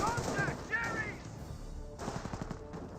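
Gunfire crackles in a Company of Heroes 1 battle as Panzer Grenadiers advance, with short bursts and impacts over a busy mix of game sounds and a voice talking.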